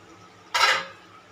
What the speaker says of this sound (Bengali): তুলে নিলাম ঢাকাটা, একটু নেড়ে দেবো আবার